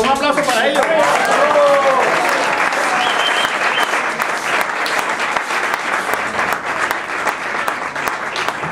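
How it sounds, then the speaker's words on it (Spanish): An audience at a Barranquilla carnival music event claps loudly and steadily, with cheering voices rising over the opening seconds before the sustained applause continues on its own. "un aplauso para ellos"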